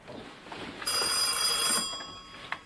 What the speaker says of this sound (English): Ruth Ellen, would you get the phone, please?